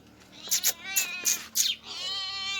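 A male house cat gives a run of four or five short, fairly close meows in quick succession, then a longer drawn-out cry, over a quiet room.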